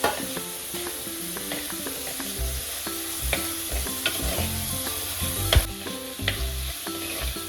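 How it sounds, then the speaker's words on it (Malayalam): Tomatoes sautéing in a pan for sambar, a steady close sizzle with repeated scraping and clanking strokes of a spatula stirring throughout, no voices. "ഈ തക്കാളിയൊക്കെ ഏകദേശം ഒന്ന് സെറ്റ് ആവണ വരെ നല്ലതുപോലെ ഒന്ന് വഴറ്റിയെടുക്കാം"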